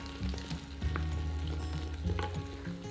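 Vegetables in a tomato-based sauce sizzle and fry steadily in a pan, with close, intermittent scrapes and knocks of stirring over a continuous hiss.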